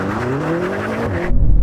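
A BMW M5 makes a launch-control drag race start: a loud, rising engine rev with a whining tone that bursts into a sudden, harsh surge of power and tyre noise as it pulls away.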